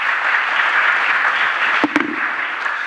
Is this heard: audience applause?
yes